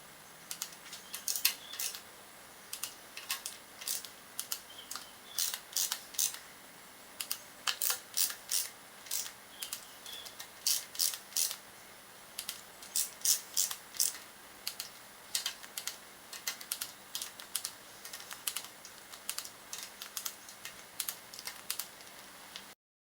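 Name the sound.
wrench tightening engine front timing cover bolts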